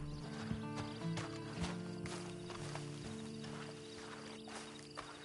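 Horse hooves clip-clop at a walk in Red Dead Redemption 2, steady and close over a low musical game soundtrack.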